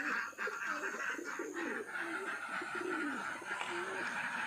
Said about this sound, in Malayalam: എല്ലാം തന്നെ നാടൻ പ്രാവുകളാണ്.